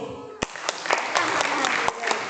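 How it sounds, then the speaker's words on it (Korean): A church congregation gives a short, scattered round of clapping during a children's sermon, with a few sharp claps close by and a voice talking over them. "박수."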